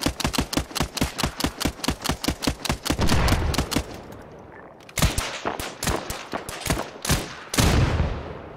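Rapid bursts of automatic gunfire in the combat game Arma 3 on the Tanoa map, dense regular shots giving way briefly to a rumble and quieter pause before further loud, sharp volleys resume.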